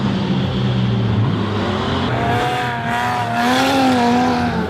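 8N stockcar race cars roar loudly on a track, their engines whining and shifting pitch as they jostle for position, with tire squeal and rough scraping mixed in and no voices.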